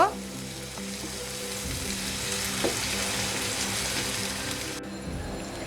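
Onions sizzle and fry steadily in a pan, a continuous close crackling hiss that holds at even loudness throughout, with a brief stir near the middle and no talk.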